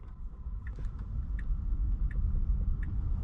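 Cabin rumble of a Tesla on Full Self-Driving rolling over road bumps, a low steady road roar with soft regular thumps and faint ticks from inside the car, no talk.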